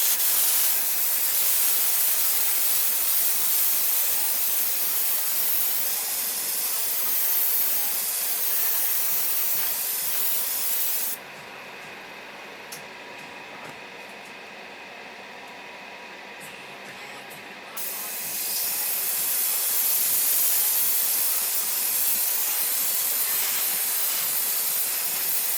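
A spray paint can hisses onto plastic model kit parts in long continuous bursts, one broken by a pause with a quieter spray, close and loud.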